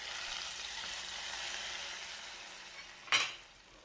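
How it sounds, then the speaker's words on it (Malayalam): Fried onion tempering sizzles steadily as it is prepared for a Kerala coconut fish curry with kilimeen, then a brief sharp clatter of a metal pan or utensil rings out near the end as the sizzle fades. "ഇതാ ഉള്ളി വറവിട്ട് നമുക്ക് കറിയിലേക്ക് ഒഴിച്ചു കൊടുക്കാം"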